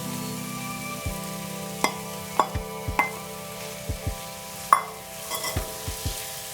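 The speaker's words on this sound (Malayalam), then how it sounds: "അപ്പം നമ്മൾ അരിഞ്ഞു വെച്ചിരിക്കുന്ന തക്കാളി ഇതിലോട്ട് ഇടുക." Chopped tomatoes stirred into hot oil and browned spice powders for a chickpea curry, giving a steady sizzle under sharp, irregular clicks and scrapes of a spoon against the pan.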